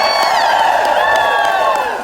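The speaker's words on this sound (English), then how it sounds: "Give yourselves a great big round of applause." A loud seminar audience cheers and whoops with applause mixed in, a continuous roar of excited voices that tapers slightly at the end.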